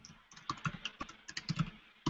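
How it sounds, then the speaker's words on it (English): Quick, uneven typing on a computer keyboard, keys clicking in small bursts close to the mic with no talking. "I can hear you typing"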